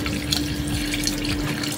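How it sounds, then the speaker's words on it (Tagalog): Tap water runs into a cooking pot while a chicken noodle dish is being prepared, a continuous splashing stream heard close and alone. "So ayan, palitan natin ng tubig mga idol"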